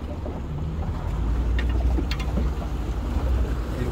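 A boat under way in forward gear on open water, its steady low engine drone and water rush running continuously with wind buffeting the microphone, close and fairly loud throughout.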